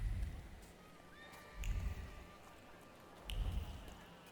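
A horse whinnies twice in the video game Thaumaturge, faint high cries over low hoof-like thuds, the calls spaced about two seconds apart against quiet background noise.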